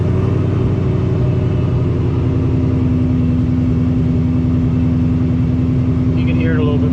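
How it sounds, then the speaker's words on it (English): A high-horsepower car engine idles and revs steadily at close range during tuning, its loud continuous drone carrying a slightly uneven, misfiring rhythm throughout, with a brief chirp near the end. "Hear it a little bit misfire, you can hear it now."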